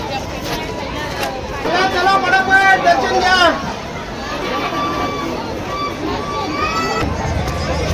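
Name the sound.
crowd at a village fair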